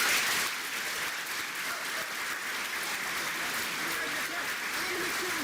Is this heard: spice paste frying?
no